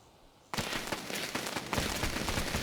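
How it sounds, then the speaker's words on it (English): A fireworks mine with an attached shell goes off in the PC2 Pyro Simulator, a sudden loud burst after quiet, followed by dense crackling and popping that swells again near the end. "This looks like it has a firework attached to it as well."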